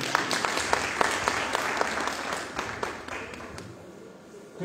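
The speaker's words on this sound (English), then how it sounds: "Amidst your applause, ladies and gentlemen." Audience applause at a school launch event in Ludhiana, India, a steady, dense clatter of many hands that carries through the whole stretch and thins slightly toward the end.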